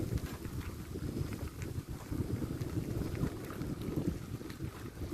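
Cool wind buffets the microphone while cycling along paths past rice fields in winter, a steady rough rushing and rumbling that stays loud and close, with no voices over it.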